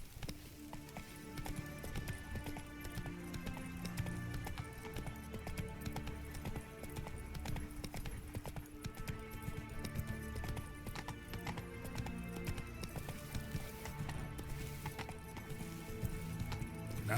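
Roach, the horse in the video game The Witcher 3, gallops in a rapid, steady drum of hoofbeats with an occasional whinny, set against a dense musical score that runs throughout.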